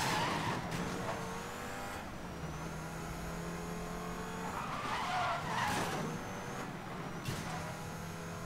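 A Ford Focus RS 500 racing in Need for Speed Most Wanted 2012, with a steady engine drone broken by repeated tire skids and squeals as the car slides through turns.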